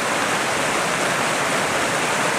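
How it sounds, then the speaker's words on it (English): Steady rushing flow of North Porcupine Creek, a mountain stream in Kananaskis near Calgary, heard close and continuous as a dense broadband wash with no voices. "I have this Porcupine Creek."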